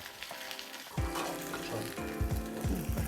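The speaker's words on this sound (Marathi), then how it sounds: "हे असं उलटं मस्तपैकी करून घेऊया आणि इकडनं पण आपण व्यवस्थित भाजून घेऊया" An amaranth-flour dosa flipped and roasting on a hot pan: a soft sizzle, then a sharp clatter as it turns, followed by several scraping knocks of a spatula against the pan over continuous frying hiss.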